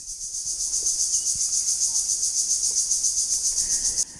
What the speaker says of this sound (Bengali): এই ঝিঝি পোকার ডাক এটা বর্ষার আগে বর্ষার শুরুতেই খুব ভালোই শোনা যায়